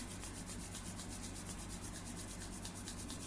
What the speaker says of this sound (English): I'm going to join my hands and I'm going to rub my hands